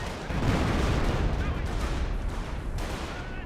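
Artillery barrage explosions in the video game Company of Heroes rumble as dense, overlapping booms and gunfire that build into a continuous loud roar, with speech faintly underneath.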